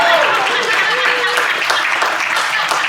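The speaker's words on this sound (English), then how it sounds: "You can clap" A room of filmmakers at a film festival welcome retreat breaks into close, dense applause, with scattered voices calling out over the steady clapping.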